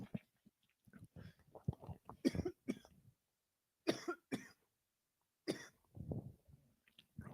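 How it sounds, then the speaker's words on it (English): Repeated bursts of harsh coughing and throat clearing, close up, in several clusters with brief pauses between them. "Coughing up a storm here."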